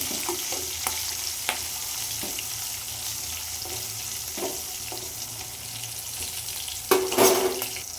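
Green chillies sizzle in hot oil for kaara pongal, a continuous close crackle with occasional sharper pops and a louder burst of spattering near the end, no talking.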